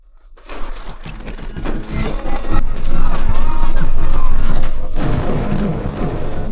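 Dense, continuous gunfire with bursts and booming impacts, loud and chaotic, with indistinct shouting mixed in throughout.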